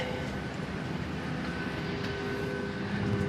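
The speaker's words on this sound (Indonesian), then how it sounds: "Pesawat Boeing 737-800 yang saat ini saya naiki berkode registrasi PKBBG ya." Inside a Boeing 737-800 airliner cabin during boarding, a steady low engine and air-conditioning hum fills the space, even and moderately loud, with no clear voices.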